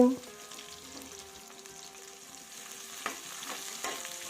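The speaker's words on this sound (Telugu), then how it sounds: "సన్నగా కట్ చేసుకున్న ఉల్లిపాయ ముక్కలు వేసుకుని వేగించుకోవాలి" Sliced onions, green chilli slits and a sprig of curry leaves frying in hot oil for a village-style okra fry, a steady soft sizzle with occasional stirring clinks, fairly quiet and with no talking.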